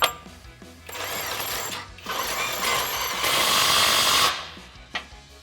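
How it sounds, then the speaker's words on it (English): An 18mm socket on a ratchet or power driver tightens a rock slider bolt at the rear body mount of a Jeep Wrangler JL, heard as close, loud mechanical whirring and clicking in a few bursts. "Now we can tighten it down using our 18mm socket."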